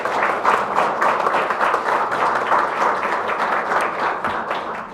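An indoor audience at a policy forum claps for lawmakers, with dense, sustained applause that stays fairly loud and even for the whole stretch.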